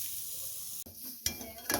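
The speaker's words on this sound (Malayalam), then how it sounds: "ഈ എരിശോരിയിൽ കുറച്ച് തേങ്ങയും കൂടെ നമുക്ക് വറുത്തിടാം" Grated coconut fried in a pan for pumpkin erissery, a Kerala curry. A close, steady sizzle is broken by two sharp bursts as the coconut is stirred or added, and no one speaks.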